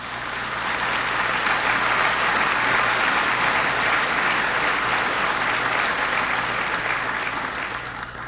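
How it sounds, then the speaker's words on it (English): A large dinner audience applauds in a dense, sustained roar of clapping that holds steady for about eight seconds, loud and full throughout before easing slightly at the end. "So therefore, we will triple the applause today."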